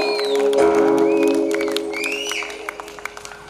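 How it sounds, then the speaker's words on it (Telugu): An audience claps steadily at a folk song performance, loud at first then tapering off, with a few scattered claps near the end and a faint whistle over the noise. "ఇంకా గట్టి చప్పట్లు కావాలి"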